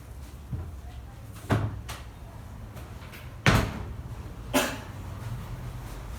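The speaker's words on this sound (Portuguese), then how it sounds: "Só um minuto, abriu a porta aqui." A door opens indoors with a few sharp knocks and clunks spread over several seconds, set against a faint steady background hum.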